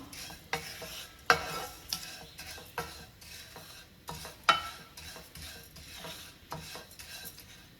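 Thick poha is fried in a pan with a spatula, giving a series of close, irregular scraping and tapping strokes over a faint dry sizzle, with no talk.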